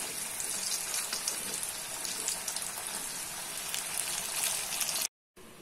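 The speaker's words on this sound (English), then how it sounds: "Now you can see the pieces are nicely fried. It will take around 3 minutes to fry." Karela (bitter gourd) pieces frying in hot oil, a steady close crackling and sizzling hiss that runs evenly without pause before cutting out abruptly near the end.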